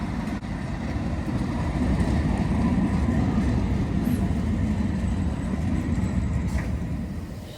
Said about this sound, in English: wait for the arrival of our first train